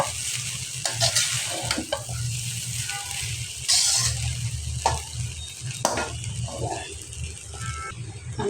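A light handful of vegetables being stir-fried into fried rice: a close, busy sizzle with repeated scraping and tossing of the spatula against the pan and occasional sharper clatters.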